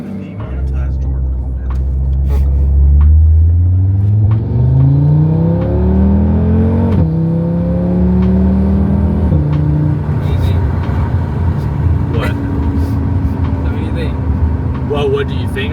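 Audi RS3 on Stage 1 with E85 fuel and an AWE Switchpath exhaust revs up and holds a loud, rising engine drone heard from inside the car. It settles into a steady rumble, with voices talking over it.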